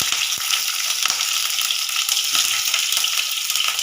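Chopped garlic and green chillies fry in oil in a pan over lowered heat, giving a steady, close hiss and sizzle with small crackles throughout.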